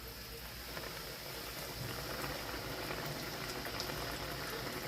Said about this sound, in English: I'm gonna fry them like one at a time. My grease is hot.